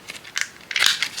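A corner rounder punch clips the edges of a paper journal card, a few quick crisp snips and crunches in close succession, the last one loudest, heard up close.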